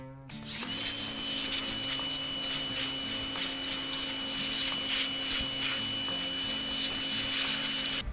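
A pressure washer sprays water steadily onto a deer hide in a close, continuous, loud hiss with a motor hum underneath, starting abruptly and holding for several seconds.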